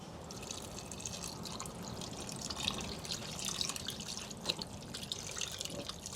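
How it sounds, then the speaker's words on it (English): Beef stock being poured into a pot of Texas-style brisket chili, a steady close splashing, liquid rush heard alone without talk. "I've got some beef stock. This is 4 cups. I'm just going to add half of it now."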